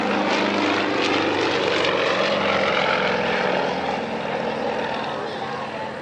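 A Yak-55M aerobatic propeller plane's engine roars loud and steady through a hammerhead turn at an air show, then fades slightly toward the end.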